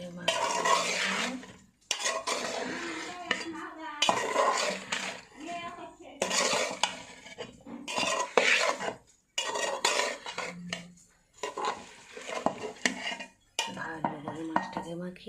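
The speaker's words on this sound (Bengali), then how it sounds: "মাছটা ভালো করে মাখিয়ে" Fish being mixed with spices in a cooking pot, with repeated clinks and scrapes of a utensil against the metal and stirring sounds in bursts across the whole stretch.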